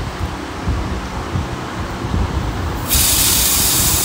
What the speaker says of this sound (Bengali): আর এখানে প্রেশার কুকারে ডাল হচ্ছে।